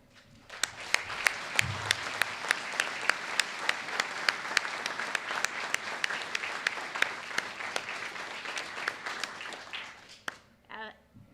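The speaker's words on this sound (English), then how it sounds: "please join me in another round of applause" An audience applauds at the dedication of a North Idaho veterans nursing home, sustained clapping with a few sharper claps standing out, fading away near the end.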